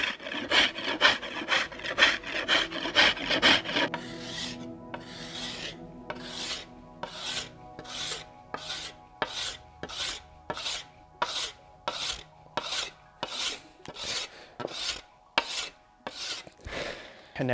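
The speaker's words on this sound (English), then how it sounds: "So I am going to rasp a little bit off here and then scrape the rasp marks away." Hand rasp filing a black locust wood bow limb during floor tillering, with steady repeated rough strokes, close and loud, about two dozen rhythmic passes, faster at first then evenly spaced.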